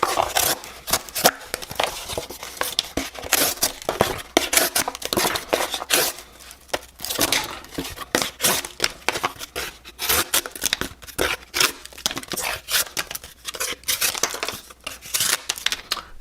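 A Kizer Gavel folding knife slices through single-wall cardboard with rough scraping, tearing strokes. The cuts repeat steadily and sound close and fairly loud, with no talking over them.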